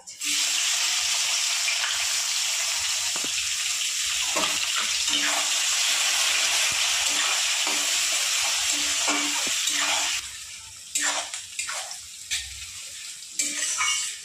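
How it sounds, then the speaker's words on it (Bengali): Chopped onion fries lightly in hot oil for a fish-head and Malabar spinach dish, a loud continuous sizzle for about ten seconds that then thins into intermittent crackling and stirring scrapes. "পেঁয়াজটা আমি হালকা করে ভেজে নেব"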